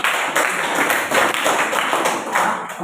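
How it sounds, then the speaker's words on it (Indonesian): Students in a school classroom clap for a presenting group, a dense burst of applause lasting a few seconds with fluttering waves of claps, fairly close. "kita beri tepuk tangan untuk kelompok"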